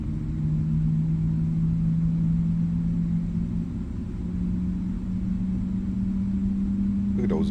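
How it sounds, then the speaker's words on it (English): Twin jet engines of a PMDG 777F freighter spooling up in a flight simulator, a steady low droning rumble with a rising tonal hum held throughout, loud and continuous with no talk over it. "Look at those big old engines spooling up."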